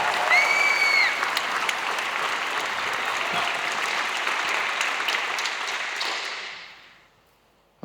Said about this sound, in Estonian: Teeme ühe aplausi talle siin õhtu lõppu